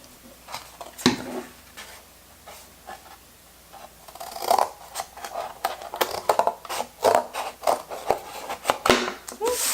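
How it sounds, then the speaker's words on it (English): Scissors snip through cardstock to cut out a traced shape, a series of close, irregular crisp cuts with light paper rustling and handling noises, brief pauses between bursts of snipping. "Alright, once you get your shape, you're going to cut it out."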